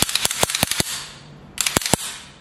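A new Taurus 1911 9mm pistol has its slide racked repeatedly, giving a quick series of sharp metallic clacks and snaps, close and loud, with a short pause before a final burst of clicks.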